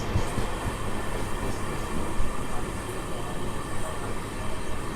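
Sapthagiri Express with new LHB coaches arriving at Tiruvallur station, heard as a steady, broad rumble of rolling rail cars at moderate distance, continuous throughout with faint station noise.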